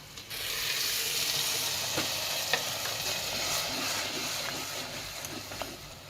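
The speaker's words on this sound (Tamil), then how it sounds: "கொஞ்சம் ப்ரௌனாக வதங்கினா நல்லாயிருக்கும்" Steady sizzling and frying of gongura leaves in a pan with occasional stirring scrapes, close and continuous with no talking.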